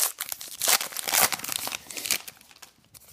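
Crisp crinkling of a small clear cellophane wrapper around a pack of 2015 Allen & Ginter baseball cards, close and fairly loud, with bursts of rustling and crackling that taper off toward the end.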